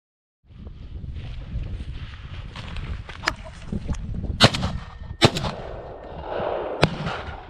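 Shotgun reports ring out during a rough shoot for woodcock and pheasant, several sharp cracks spread over a few seconds outdoors above constant wind buffeting.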